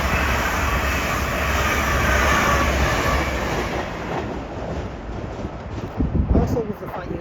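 A fast LNER passenger train passes through Doncaster station, a loud sustained roar of wheels and rushing air with a high whine, gradually easing and giving way to scattered clatter and nearby movement.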